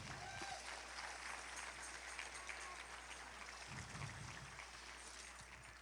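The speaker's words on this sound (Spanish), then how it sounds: "dale un aplauso al Rey" A church congregation claps during a Spanish-language sermon, a broad, fairly quiet patter of many hands over a low steady hum, with faint murmur and a brief low thump partway through.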